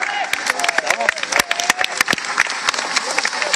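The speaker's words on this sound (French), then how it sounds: "C'est parti, première voiture, ça mérite des applaudissements" Crowd applauding at the start of a vintage car run at Le Touquet, dense clapping with scattered sharp claps and some voices mixed in, close and fairly loud throughout.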